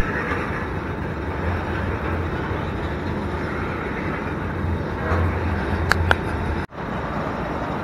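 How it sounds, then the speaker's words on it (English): A continuous low rumble of a long freight train rolling past, steady and loud throughout, with a faint high squeal near the end. "Boy, this train is super long."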